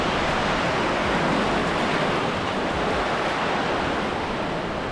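Sea waves at Tarkarli beach on the Konkan coast wash in as a steady, loud, broadband roar of surf that fills the whole stretch without pause.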